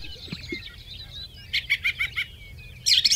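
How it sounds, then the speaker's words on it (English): A greater sage grouse mating display outdoors: thin chirping calls run throughout, then a quick rhythmic series of about five popping bursts, followed by a louder cluster of sharp calls near the end. "The sage grouse's mating call, strutting, puffing,"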